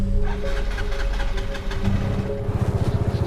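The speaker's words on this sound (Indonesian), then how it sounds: "Duh, kok nggak jalan sih nih motor?" A motorcycle engine sputters and fails to run, first a rough uneven rumble and then a run of rapid knocking pulses. It is loud and close, with no voices.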